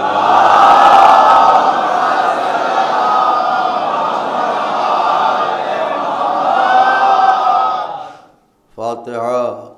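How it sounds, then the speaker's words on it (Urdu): A large congregation at a Shia majlis gathering in Lucknow chants religious slogans in unison, a loud, sustained roar of many voices lasting several seconds. It breaks off abruptly into a short silence, then a single voice speaks. "اپنی حاضری اور ہماری ذاکری کی قبولیت کے لیے مل جل کے بلند ترین نعرے"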